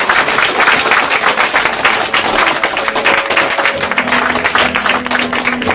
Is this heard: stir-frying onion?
no